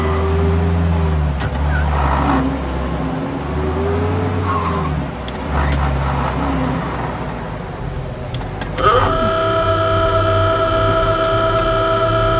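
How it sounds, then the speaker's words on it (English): A 1930s car is driven in Mafia: Definitive Edition, its engine droning and rising and falling as it changes gear, ending in a sustained high whine over the engine hum, with no voices. "Please drive it like a crazy person."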